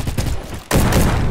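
Rifle shots in the Roblox game Bad Business come in a quick volley of bursts. They fade briefly, then a loud, sustained burst of fire begins.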